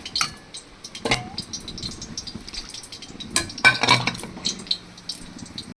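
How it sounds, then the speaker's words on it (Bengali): Thin Bengali fish broth with tangra fish, ridge gourd and potato bubbles in a pot, giving a close, busy patter of bubbling and sizzling, with a few rattling clatters from the pot and utensils. "ঝোলটা দেখো ভালোভাবে ফুটে গেছে"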